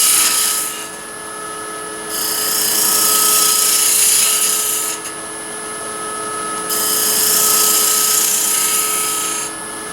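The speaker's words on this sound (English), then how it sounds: "Spindle gouge, I'm going to roll this bottom very gently." A wood lathe spins a lidded ring box while a spindle gouge cuts, giving a steady high whine with two long, louder cutting passes and brief dips between them, close and loud.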